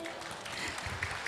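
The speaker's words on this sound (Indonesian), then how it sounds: "Kurang semangat tepuk tangannya nih" Student festival audience clapping for a woman introduced on stage: a soft, thin patter of scattered applause, fairly quiet and brief, with a few louder claps toward the end.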